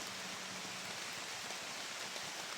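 Rain falls steadily in a forest, a soft, even hiss of drops that continues without a break and without voices.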